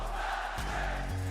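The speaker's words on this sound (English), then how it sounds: "Listen to that crowd right now" A wrestling crowd at the Royal Rumble roars in a steady, loud wall of cheering that swells slightly partway through, with a low tonal hum underneath.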